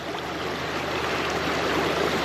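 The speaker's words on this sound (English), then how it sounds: "This current is insane with all the rain that we've been getting" A fast, rain-swollen trout stream rushes in a steady, dense wash of water noise, close and continuous, with no voices.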